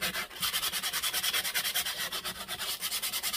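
Steady back-and-forth rubbing of 120 grit sandpaper on the metal of a Stanley 4 1/2 hand plane, a fast even rasping rhythm of regular strokes, close and continuous, with no voices.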